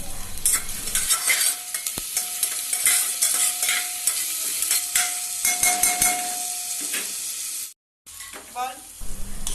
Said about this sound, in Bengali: এর মধ্যে দিয়ে দিচ্ছি কাঁচা লঙ্কা কুচি গ্রেট করা আদা গ্রেট করা রসুন